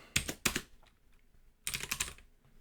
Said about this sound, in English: Typing is very hard apparently today.